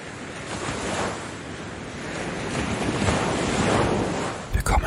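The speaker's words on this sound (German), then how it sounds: "den warmen Sand unter den Füßen und das Rauschen der Wellen" Ocean waves surf on a sandy beach, a broad continuous roar of breaking water swelling and easing in slow surges, loud and close with wind buffeting the microphone near the end.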